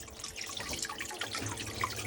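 Pumped water circulating back into a rain barrel tank for a chicken waterer, a soft steady trickle and splashing with faint drips, continuous and fairly quiet throughout.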